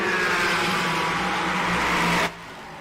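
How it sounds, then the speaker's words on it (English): Porsche GT race cars battling on the Red Bull Ring circuit during a GT Cup Series race, a steady loud engine roar with a high whine that cuts off abruptly near the end. "here we have other Porsche cars fighting each other"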